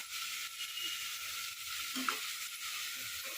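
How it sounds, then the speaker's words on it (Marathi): Ground coriander and turmeric powder sizzling steadily in hot oil for a spiced rice dish, a soft, even hiss with a faint clink near the middle and no talking. "त्या तेलामध्ये टाकणार आहे हे सर्व परत आहे तेलामध्ये आता मसाला टाकते की मसाला धना पावडर हळद पावडर"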